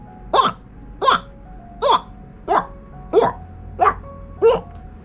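A voice imitates a baby crocodile's call beside a river, seven short rising croaking chirps spaced evenly about every 0.7 seconds, close and clear over quiet background.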